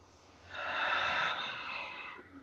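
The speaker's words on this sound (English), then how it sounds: "Nice deep breath." A single slow, deep inhale is taken close to the microphone. It swells and then fades over about two seconds, with no talking.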